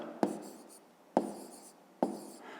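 Pen writing by hand on paper while solving a fifth-grade maths exercise, three short sharp scratchy strokes spaced about a second apart, each trailing into soft rubbing, close and quiet with no talking.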